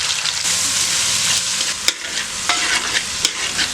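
Tomatoes, shallots and garlic sizzle steadily in a pan for a village-style fish curry, with scattered spoon scrapes and clinks over the constant frying hiss.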